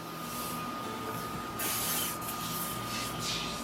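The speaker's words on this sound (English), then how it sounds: "Spray it down with some window cleaner." Bursts of aerosol window cleaner spraying hiss against a steady background hum, several quick sprays in a row onto a Weber kettle grill, close by and fairly loud, with no talking.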